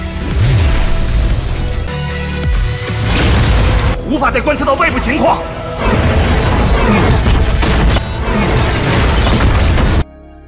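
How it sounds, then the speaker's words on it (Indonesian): Loud, dense bursts and booms of small explosions outside an aircraft crash one after another in a chaotic action scene, with heavy rumbling and debris-like clatter throughout. "pesawat milik Kesatria Changyan yang mengakibatkan ledakan-ledakan kecil di luar pesawat"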